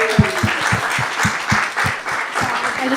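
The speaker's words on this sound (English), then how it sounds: "was just wondering if we could just give Tim one more round of applause" An audience claps loudly and continuously, with a few sharper individual claps standing out in an irregular rhythm.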